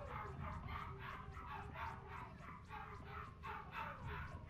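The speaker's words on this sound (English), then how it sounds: "Why are the dogs going off" Several dogs bark and yip together in a rapid, continuous rhythm, at moderate distance over a constant low rumble.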